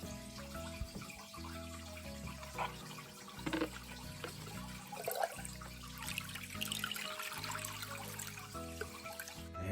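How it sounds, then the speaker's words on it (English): Fresh dechlorinated water being poured into a home aquarium to top it up, a steady splashing, trickling stream close by and continuous for the whole stretch, with no talk over it. "Topped up the tank."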